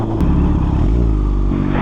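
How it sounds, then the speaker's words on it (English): A Suzuki GSXR motorcycle rumbling close and loud, its exhaust crackling with rapid pops over a deep, steady engine drone. "Just hear those pops, bro."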